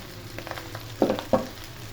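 Beef stir-fried in a pan for hakka noodles gives a low background sizzle punctuated by a few short scraping strokes of a spatula, two of them louder and closer near the middle.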